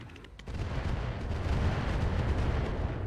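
Weapon fire in the BattleTech mod RogueTech comes as a dense, sustained low rumble of heavy shots and impacts that swells after a brief quieter start and stays loud to the end.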